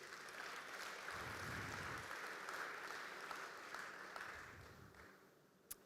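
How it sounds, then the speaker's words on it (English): A real estate conference audience gives itself a round of applause, a broad, sustained roar of clapping that swells and then gradually tapers, heard from a little distance and ending with one sharp click. "Give yourself a round of applause."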